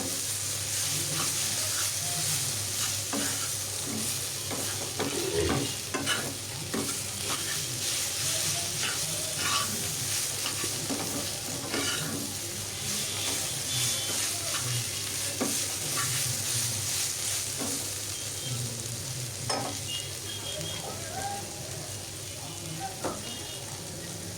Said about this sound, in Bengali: এক পিঠ একটু ভাজে হলে আবার আরেক পিঠ নেড়ে দিব এভাবেই আমি বেশ কিছুক্ষণ ভাজতে থাকবো